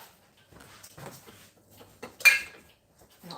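A metal baking pan is picked up and handled in a home kitchen, giving light clinks and scrapes, with one sharper clatter standing out among quieter rustling movements.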